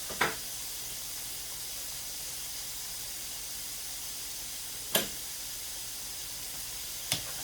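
Steady hiss and sizzle of Jamaican-style chicken frying in hot oil, with three sharp clicks or knocks spaced through it.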